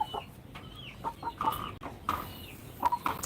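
Backyard chickens, including black three-way cross hens, cluck in short scattered calls at close range, with brief bird notes popping up over a quiet background and no talking.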